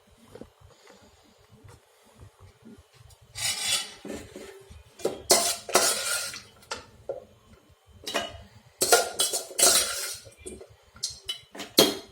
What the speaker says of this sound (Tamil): இப்போது வணக்கினதை வந்து நம்ம ஜாரில் போட்டு வச்சுக்குவோம்.